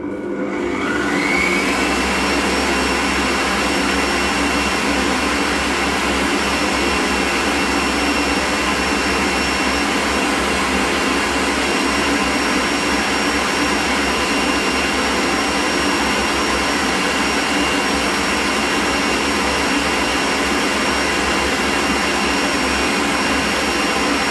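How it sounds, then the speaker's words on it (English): An electric mixer whirs continuously at medium-high speed while whipping buttercream, a loud, steady, high-pitched whine that holds unbroken from start to finish with no talking. "I'm just going to give that a quick whiz up now, and I'm just going to do that on a medium-high speed"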